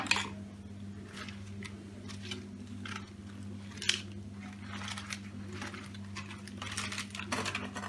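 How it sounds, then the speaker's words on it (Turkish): Repeated crisp cutting strokes in an irregular rhythm as a knife chops lettuce on a board for a tuna salad, over a low steady hum. "Şimdi marulları doğramakla işe başlayalım."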